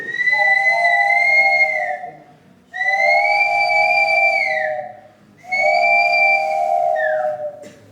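A train whistle blows three long, loud blasts, each holding steady before sliding down in pitch at the end, separated by short pauses, with no talk over it.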